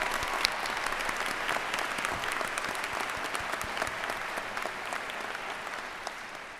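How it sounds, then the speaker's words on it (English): Sustained applause fills a university commencement ceremony honoring serving soldiers, a large crowd clapping steadily and densely for several seconds with no pause. "We give those guys and girls a big round of applause."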